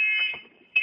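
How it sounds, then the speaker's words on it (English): A household smoke alarm emits a loud, shrill electronic tone that cuts out briefly and then sounds again, piercing and close. "that's my smoke alarm going off"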